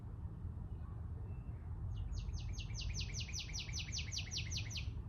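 After a couple of seconds of low hum, a bird breaks into a quick run of sharp, evenly spaced high chirps.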